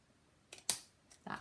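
Dull scissors snipping paper for a memory book page, a few quiet, sharp cuts separated by short pauses, close by and otherwise nearly silent.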